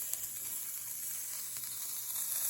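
Onions grilling in a skillet give off a steady, dense sizzle and hiss, close and continuous, with no voices.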